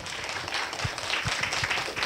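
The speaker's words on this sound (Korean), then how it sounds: "박수를 부탁드립니다." Audience applause at a university academic symposium: steady, dense clapping from a seated crowd fills the whole stretch at an even level, with a few sharper individual claps standing out.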